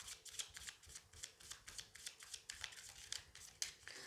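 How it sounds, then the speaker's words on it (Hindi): Tarot cards are shuffled by hand in a steady run of soft, papery riffles, close and fairly quiet, with no voices. "last shuffle"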